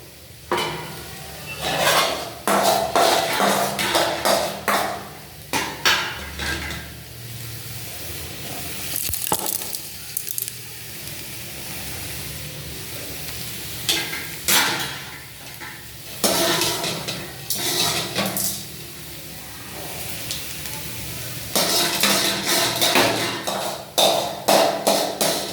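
A hot tempering of urad dal and curry leaves is poured into a dish, sizzling with stirring and scattered metallic taps and clatters of a pan and spoon, close and fairly loud, with no voices.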